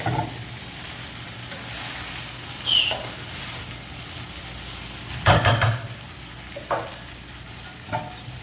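A wheat bread sandwich with egg and tuna fries in a pan, giving a steady, low sizzle broken by occasional stirring scrapes and clinks.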